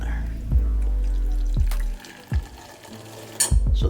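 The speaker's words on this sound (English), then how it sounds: "I just get the bottle and I pour the water in there" Water poured by hand into a bottle for an Infinity feeding pump, heard close and fairly quiet, broken by a few sharp plastic knocks and clatters.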